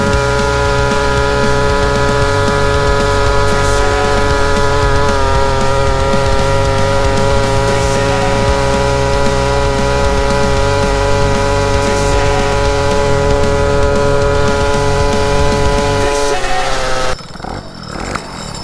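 A modified scooter engine with a modified Doppler Open variator pulley for a 17mm belt drones loudly at high revs, holding a steady buzzing pitch for a long stretch before cutting off abruptly.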